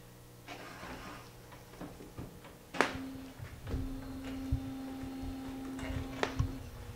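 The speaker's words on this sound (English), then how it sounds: "I'm going to turn it on and then unplug it from the back once the printhead is moved out of the locked position." An Epson R3000 inkjet printer powering up, with clicks and thumps followed by a sustained mechanical whir as the printhead shifts, plus a few sharp clacks, fairly quiet and close.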